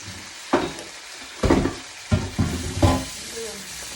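Fish frying in hot oil, sizzling in several loud, close bursts as the pieces are stirred or turned, with quiet gaps between them and no talk.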